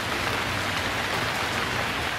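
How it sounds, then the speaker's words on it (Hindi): Steady rain falls over Islamabad and Rawalpindi, Pakistan, a continuous broadband hiss of drops on surfaces with no voices and no breaks. "इस्लामाबाद, रावलपिंडी में बारिश का सिलसिला वक्फे से जारी।"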